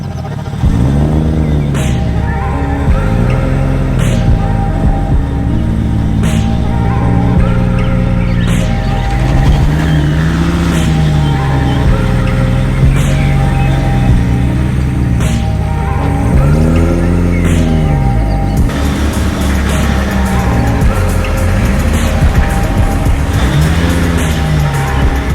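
A Barra-swapped Ford GT350 engine is driven through repeated hard acceleration pulls, loud and close, its deep tone climbing with each gear and dropping sharply at every shift.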